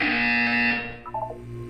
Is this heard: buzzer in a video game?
yes